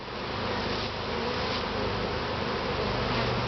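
Honey bees swarm over an open top bar hive during open feeding on the bars, a dense, steady buzzing drone filling the whole stretch, close and loud with no talking.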